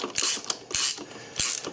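Wrench turning a bolt to pull back the belt tensioner on a Volkswagen Jetta, three ratcheting clicks with creaking metal, close and fairly quiet, no voices.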